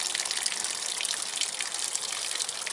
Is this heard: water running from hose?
yes